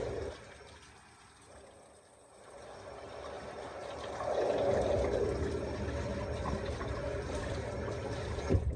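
Water running from a kitchen faucet during washing, starting faint and swelling into a steady, fuller rush midway that continues to the end.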